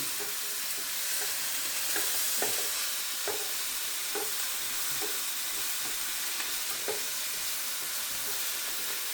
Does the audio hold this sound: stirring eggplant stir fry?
yes